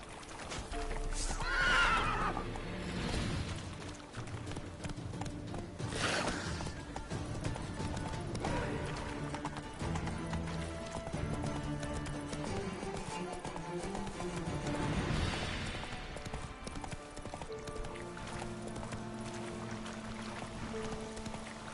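A horse gives several loud whinnies over a steady clip-clop of hooves that runs throughout, with no talk.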